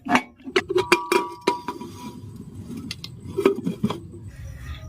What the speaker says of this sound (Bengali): এবার প্রেসার কুকারের ঢাকনাটা আমি লাগিয়ে দিচ্ছি